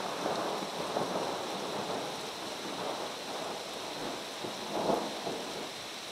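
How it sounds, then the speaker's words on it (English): Thunder rumbles through a mountain thunderstorm in California over steady rainfall, with a low swelling roll near the end; the rain patters evenly throughout at moderate distance, no voices. "We just got some lightning."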